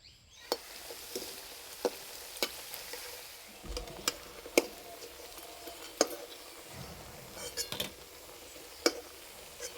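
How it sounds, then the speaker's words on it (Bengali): Sharp, scattered crunches and clicks ring out irregularly as crisp fried potato and semolina snacks are crushed or handled, fairly quiet against a soft background. "এই যে আওয়াজ শুনে বুঝতেই পারছেন যে কতটা মুচমুচে হয়েছে"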